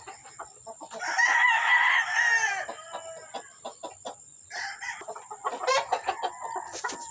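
A Maclean hatch gamefowl rooster gives a loud, close crow, followed by clucking and a second shorter crow, with other birds around on a game farm.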